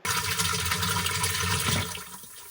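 Water rushes in through a pipe to fill a tank on an off-grid homestead with a float shutoff, a loud, close, steady gush that thins out near the end.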